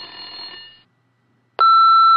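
A video-game telephone rings once with a bright buzzy electronic tone that fades out, then after a short silence a loud, steady high beep begins abruptly, like an answering-machine tone, with no voices.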